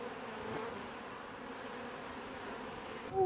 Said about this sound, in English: the bees everywhere.